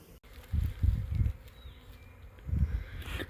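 Honeybee colony humming low and close in short swelling bursts, about to swarm, with quiet gaps between the louder waves.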